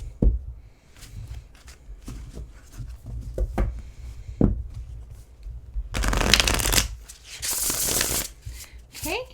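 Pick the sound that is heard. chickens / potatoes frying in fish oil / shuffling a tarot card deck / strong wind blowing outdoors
shuffling a tarot card deck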